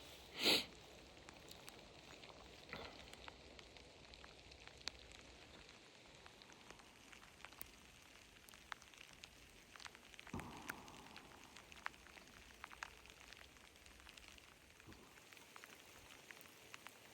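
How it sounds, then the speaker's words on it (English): Light rain falling outdoors, a faint steady patter of scattered drops over soft background hiss, with no voices. "But it's just started raining. I'm not sure if you guys can hear that"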